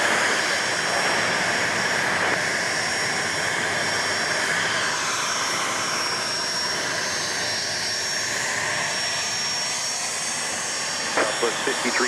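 Jet engines roar steadily at Dallas Love Field airport, a broad loud wash from a nearby aircraft that continues throughout, with air traffic radio voices heard over it.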